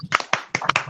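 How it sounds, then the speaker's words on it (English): A handful of sharp, uneven hand claps ring out close by in under a second, sparse and unaccompanied by voices. "Let's clap for KU girls"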